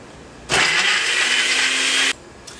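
A blender in a raw-food kitchen chops a raw biryani mixture with cinnamon toward a crunchy-mince texture: a loud whirring buzz kicks in abruptly, runs steadily for about a second and a half, then cuts off, followed by a brief faint blip.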